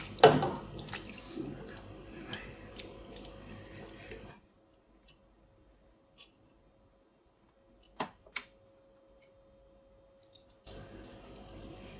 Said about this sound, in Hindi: अब जब ये चावलों का पानी उतारती है ना